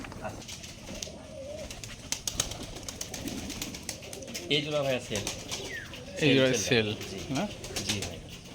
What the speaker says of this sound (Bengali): অনেক সুন্দর কবুতরগুলো সাইজ কিন্তু মার্শাল্লাহ অনেক বড় বিগ সাইজের কবুতর